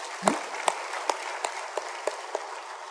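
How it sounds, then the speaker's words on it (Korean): A congregation applauds in a reverberant church, with a steady wash of clapping and sharper claps landing at an even rhythm. "영광의 박수를 하나님께 드립니다."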